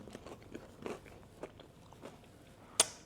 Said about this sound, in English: bit of side salad for the crunch.